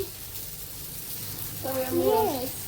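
A dosa frying on a hot griddle at home gives a soft, steady sizzle throughout, with a brief louder tonal sound toward the end.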